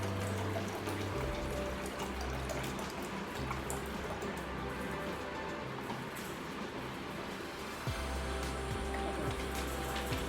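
Water poured into a container while preparing homemade bio enzyme, a continuous splashing and trickling flow with a brief pause near the end, close and fairly quiet.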